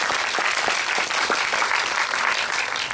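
A crowd at a film screening Q&A for the movie Hunt applauds, with dense, steady clapping that fills the whole stretch at an even, loud level and no voices above it.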